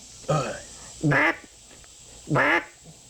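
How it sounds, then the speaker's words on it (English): Three loud, nasal quacks blown on a Primos duck call, evenly spaced about a second apart, each a short harmonic honk standing alone with no talk over them. "Now, let's do the quack."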